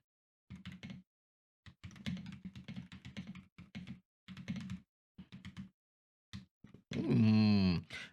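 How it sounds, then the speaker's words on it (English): Typing on a HiGround Yu-Gi-Oh themed keyboard: close, crisp bursts of keystrokes in quick clusters separated by short pauses, ending with a brief voiced exclamation. "Let's just do a quick sound test for your keyboard enthusiast."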